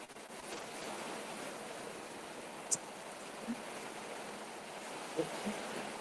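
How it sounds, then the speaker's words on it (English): Steady broadband hiss of rain or drizzle falling outdoors, constant and moderately loud throughout, with a few faint knocks and ticks on top. "I don't know if this rain affecting how you hear me."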